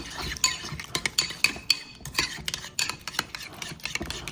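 Sauce of red wine vinegar being stirred for a meatloaf topping, with a spoon clinking and scraping against a bowl in quick irregular strokes, close and moderately loud, with no talking.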